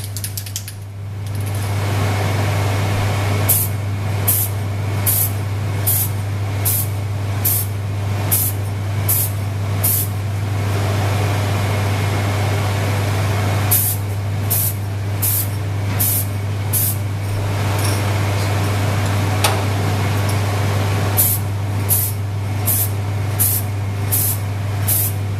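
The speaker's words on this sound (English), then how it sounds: "Spray and then spray again and build it up." Aerosol spray paint hisses in repeated short bursts onto a model, primer and final coats built up in several passes, each spray a bright close hiss, over a steady low hum from a fan or extractor.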